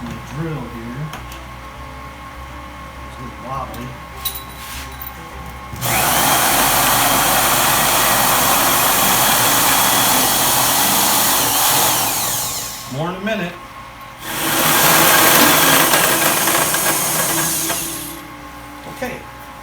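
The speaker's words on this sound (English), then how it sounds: "when I turn them with my drill, they will crush the grains" A handheld drill drives a small homebrew grain mill's rollers to crush brewing grain, running in two long loud grinding bursts separated by a short pause, with someone speaking briefly before and between them.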